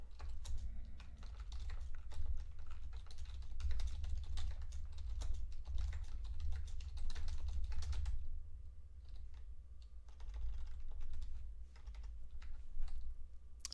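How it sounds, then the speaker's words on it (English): Steady typing on a computer keyboard while a post is written, a continuous patter of close keystrokes over a low constant hum, thinning slightly toward the end. "1 second as I type in the post on Facebook."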